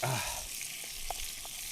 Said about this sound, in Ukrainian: Ну і ще пару хвилин отак ось смажимо.